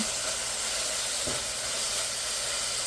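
Garlic paste and onions frying together in a pan as the spice base for a snakehead fish curry: a steady, even sizzling hiss throughout, close and moderately loud, with no talking.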